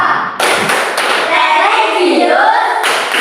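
A school class claps the PPK routine together, a steady burst of rapid group hand claps with a few voices mixed in.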